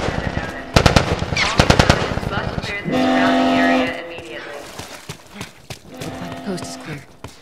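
Gunfire in The Last of Us, with loud close bursts of rapid automatic shots in the opening seconds, then scattered single shots and clatter later, while voices shout during the fight.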